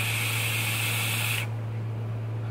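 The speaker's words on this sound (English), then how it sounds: "It's just the airflow going all those angles and hitting everything." Air hisses steadily through a Reload X RDA rebuildable vape atomizer for about a second and a half, then cuts off abruptly, leaving a low constant hum underneath.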